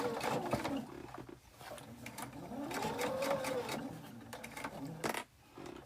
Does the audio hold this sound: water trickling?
no